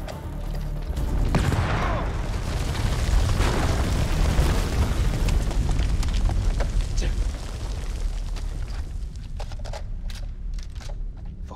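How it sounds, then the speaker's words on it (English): Grenade blast in the horror game House of Ashes: a heavy, rumbling explosion swells and lingers as a long roaring decay, with scattered debris crackles and pops as it fades. "Grenade!"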